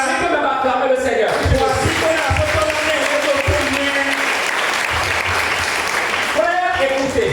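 A church congregation bursts into sustained loud applause acclaiming the Lord, dense clapping filling the room throughout with voices and shouts mixed in, briefly easing near the end.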